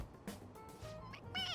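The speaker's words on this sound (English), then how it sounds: "It meows when you press on its head." A stuffed toy cat in Persona 5 Royal gives short synthetic meows when its head is pressed, a few brief tonal cries rising over a quiet game background with music.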